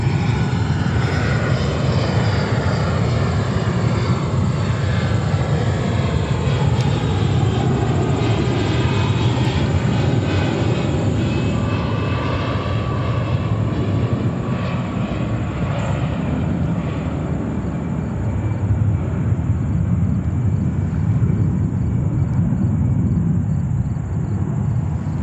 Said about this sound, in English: let's go over to the 757 from Delta.